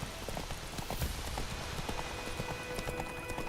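A horse named Roach trots in The Witcher 2 game world, its hooves clip-clopping in a quick, even rhythm under a faint steady ambient bed, moderately close.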